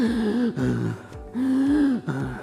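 A voice imitates stridor, the harsh noisy breathing of tracheal stenosis, in two long strained wheezing breaths with a pause between, close and alone.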